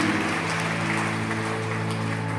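An audience claps steadily at a worship gathering, a dense wash of hand claps holding even throughout while sustained musical tones hum underneath.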